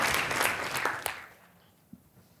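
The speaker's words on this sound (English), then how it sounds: "Another round of applause for Al." A crowd claps loudly for about a second, then the applause thins out and fades into quiet.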